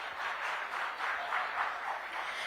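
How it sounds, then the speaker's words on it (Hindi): Audience at a health-sector session with Union Minister of State SP Singh Baghel breaks into steady, dense clapping that fills the hall with no voices over it. "जोरदार तालियों के साथ आपकी तरफ से उनका स्वागत होना चाहिए"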